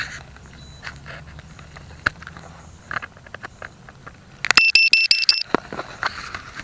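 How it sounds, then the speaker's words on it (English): A rapid series of sharp, high electronic beeps from a tricopter's low-voltage battery alarm breaks through quiet clicks and handling noise, loud and close. "Voltage alarm."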